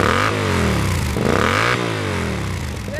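A classic MV Agusta Ago replica motorcycle at a Ducati meetup: close, loud engine revving in repeated rising-and-falling sweeps, one throttle blip after another over a steady idle.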